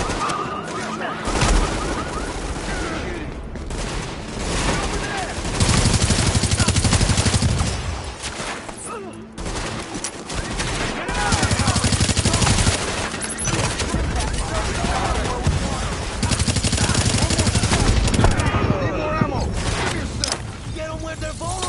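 Sustained gunfire and mechanical clatter in a video game fight, dense and continuous with louder bursts throughout, mixed with scattered voices and game sound.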